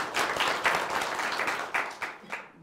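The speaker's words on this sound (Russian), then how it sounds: "Пожалуйста, вам слово под ваши бурные аплодисменты." Applause from an audience at a panel talk on cinema greets the next speaker, a fairly quiet, steady patter of many hands clapping that tails off toward the end.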